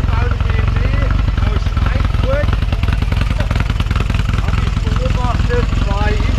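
A motorcycle engine idles loudly and close at an off-road reliability trial in Ohrdruf, Germany, a steady rough throb, while people talk over it.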